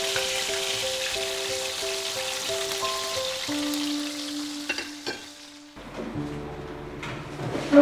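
Fish fries in a pan with a steady close crackling sizzle, accompanied by background music tones, quieting briefly before the sizzling resumes.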